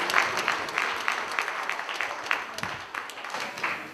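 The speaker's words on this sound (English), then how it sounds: "Why don't you clap for us" Church congregation applauding at a Thanksgiving service, a steady wash of many hands clapping at moderate distance, sustained throughout with faint voices underneath.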